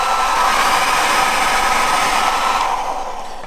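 A Welov cordless vacuum cleaner runs in turbo boost mode, giving a loud, steady, high-pitched whirring roar of suction that eases slightly toward the end.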